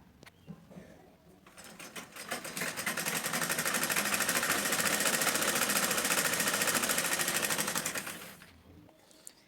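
A sewing machine stitches blouse fabric with lining laid on top, a fast, rapid rattling run that builds up, holds steady and loud for several seconds, then stops, with no voices.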